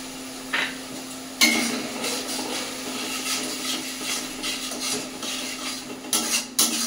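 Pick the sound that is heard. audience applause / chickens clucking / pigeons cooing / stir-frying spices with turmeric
stir-frying spices with turmeric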